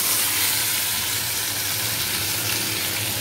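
Boiled potatoes sizzle in a hot pan with cumin seeds and green chillies, making a loud, dense, continuous frying hiss with fine crackle.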